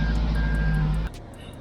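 A garage-parked 2004 Toyota Camry 2.4 with an exhaust leak shifting into reverse: a rapid string of short, high reversing beeps over a steady tone and engine rumble that drops away abruptly after about a second.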